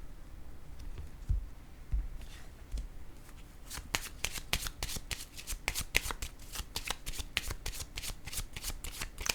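Tarot cards are shuffled and laid down in a run of crisp, rapid riffling snaps, close and dry, with a few soft taps of cards placed on a surface before the shuffle.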